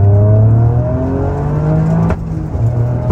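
A large engine idles steadily with a deep, humming drone, close by and constant, with a brief knock partway through.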